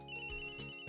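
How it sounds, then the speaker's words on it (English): A cellular phone rings in the video game Phoenix Wright Ace Attorney as a steady, buzzing electronic tone with layered harmonics, pulsing slightly and fairly loud, with no voices. "Cellular phone."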